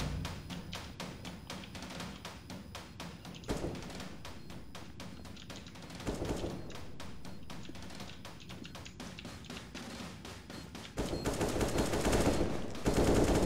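Rapid automatic gunfire from the game CS:GO rattles in long, dense bursts with brief gaps, loud and sharp throughout, turning heavier and louder near the end.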